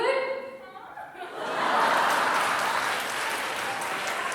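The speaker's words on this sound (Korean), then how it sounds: "자, 박수" Wedding guests break into applause that swells from about 1.5 seconds and holds steady and loud to the end. Laughter and a voice come first, and scattered chuckles run under the clapping.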